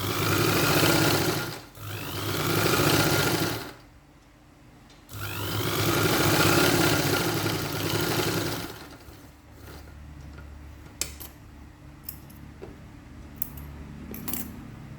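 A sewing machine stitching a cross belt on a blouse runs in long whirring bursts with brief pauses, then falls quiet as a few light metallic clicks and taps follow.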